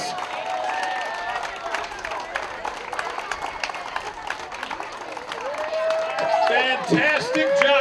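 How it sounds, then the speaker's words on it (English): A crowd at dragon boat races applauds and cheers for the racers, with dense clapping throughout and a swell of cheering near the end, amid loud outdoor hubbub and some shouting voices. "Let's give them and all the racers a big round of applause."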